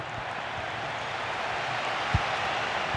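A stadium crowd in a football career-mode video game roars as a steady, dense wash of noise with no distinct claps, continuous throughout.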